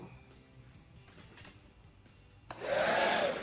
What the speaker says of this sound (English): I put a diffuser on the end of my dryer